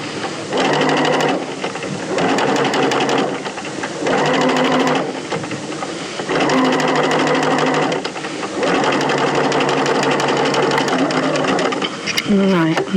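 A sewing machine stitching a jeans pocket seam with a French-seamed pocket bag runs in loud close bursts of rapid needle clatter, stopping and restarting several times with brief pauses between runs.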